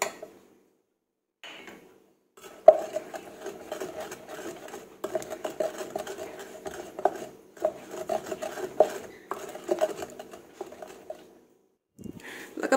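Shrimp paste chili dip (nam prik kapi) being stirred and mashed together, giving a steady close-up scraping and rubbing texture that runs for about ten seconds with a few short pauses.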